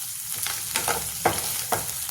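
Cumin seeds and green chillies splutter in hot oil over a full flame for a tomato saar tempering, with a dense close sizzle and sharp popping bursts recurring every half second or so.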